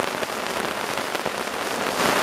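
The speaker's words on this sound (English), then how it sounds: "maybe about 15 seconds too late before the downpour hit" Heavy rain pours down in a dense, steady hiss, with no gaps and growing slightly louder toward the end.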